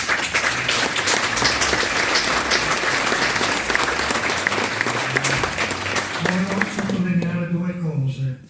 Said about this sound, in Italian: gli applausi particolari che partono quando si parla del papà di Andrea.